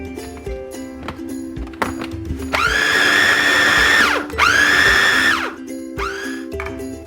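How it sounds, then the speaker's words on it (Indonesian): A kitchen blender whirs loudly in two sustained bursts with a short pause between, then a brief third pulse, amid clattering and handling noises. "kita blender lagi ya"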